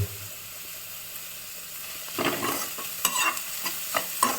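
Raw banana curry ingredients sauté in a pan, starting quiet and then breaking into close, steady sizzling with bursts of stirring and scraping over the last two seconds.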